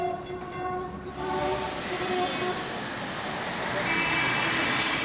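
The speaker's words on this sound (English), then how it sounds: "Trams exist even today" Tram passing through a busy Indian city street, a loud, continuous rumble with rising traffic noise around it and a horn blaring near the start.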